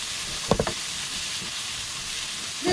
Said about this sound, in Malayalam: അപ്പം ഞാൻ ഇതിലേക്ക് നോൺ സ്റ്റിക്ക് പാറ്റില ഉപയോഗിച്ച് നല്ലോണം ഇളക്കി കൊടുക്കണം